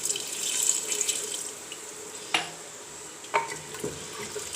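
Homemade stock poured from a vessel into a pot of aloo gosht, a watery splashing rush with a few clanks of metal utensils against the pot, close by and moderately loud, with no speech.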